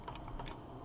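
Light, quick tapping on a computer keyboard, a short burst of soft irregular key clicks heard up close and alone.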